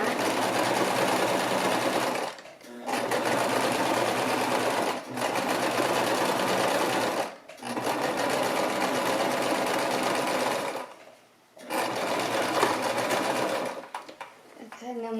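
A sewing machine stitches seams on a baby romper in steady, loud runs, pausing briefly three or four times before starting again.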